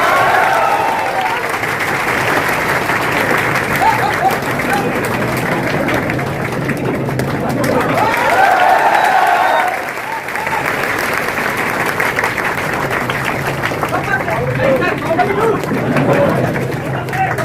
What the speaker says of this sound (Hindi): तालियों से स्वागत है।